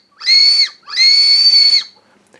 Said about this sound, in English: let's try a whistle gum